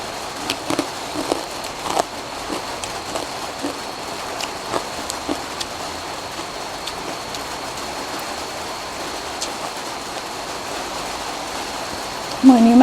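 Heavy rain pouring down steadily, a dense close hiss with scattered sharper drops pattering on surfaces, continuous throughout with a brief louder noise at the very end.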